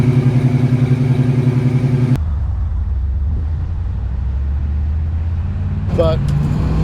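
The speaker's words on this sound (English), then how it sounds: "whenever you're at an idle, you can tell that the mufflers have given way a little bit, and you get kind of a rattle, puff sound to it." A 1979 AMC AMX idles with worn mufflers that have given way, a rough, rattling puff on each pulse of the exhaust, close and loud for about two seconds before a rumbling, quieter stretch with a brief clatter near the end.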